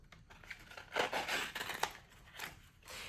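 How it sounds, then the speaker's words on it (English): Scissors snip along the edge of a tarot card, giving quiet, close crisp cuts and papery crinkles in short irregular bursts. "So basically trim this off as close as possible, trimming both sides."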